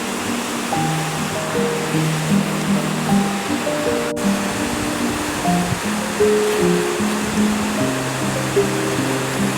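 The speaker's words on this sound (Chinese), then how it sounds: "再来看白须瀑布，它的水颜色非常的特别" Steady rushing water of the Shirahige waterfall, a falls with unusually blue, mineral-tinted water in a snowy landscape, forms a continuous broadband roar beneath sustained musical tones.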